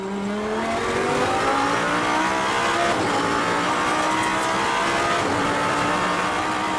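Audi R8 LMS Ultra GT race car on a qualifying lap at Sydney Motorsport Park, its engine loud and close, revving and accelerating through the gears with rising and falling pitch sweeps and possible brief tire squeal.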